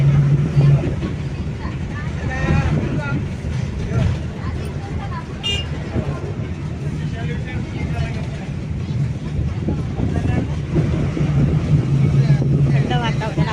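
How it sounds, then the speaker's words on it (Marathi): A car driving along a road during a cool-weather trip, with a steady engine and road rumble throughout and people talking over it. "मस्त चाललेली आहे गाडी आता"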